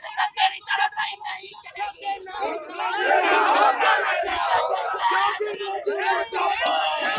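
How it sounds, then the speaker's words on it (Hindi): A Bhim Army protest crowd on a Patna street chants slogans against Yogi. Rhythmic shouted call-and-response builds into a sustained, loud roar of many voices. "देखिए लगातार योगी और जोगी मुर्दाबाद के नारे लगा रहे हैं लोग"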